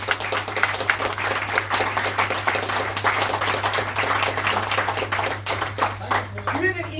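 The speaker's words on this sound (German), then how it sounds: "Dafür vielleicht noch einmal extra einen Applaus für." Steady applause from a crowd at a short film evening fills the room, a sustained clatter of many hands with a low hum underneath.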